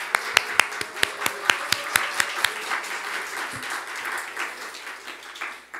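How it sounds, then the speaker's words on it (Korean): A church congregation stands and claps to welcome visitors at a Sunday service, a few sharp isolated claps at first, then a steady, moderately close wash of applause from the whole room. "잠깐 자리에 일어나셔서 우리 박수로 환영했으면 좋겠습니다."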